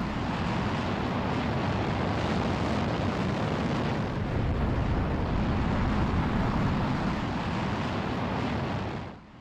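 A Japanese space rocket launches to orbit with a loud, continuous, broadband roar that stays steady throughout and drops away only at the very end.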